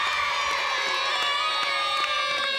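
Studio audience at a television music show cheering and shouting, loud and continuous, with strong tonal music or voices running through the crowd noise.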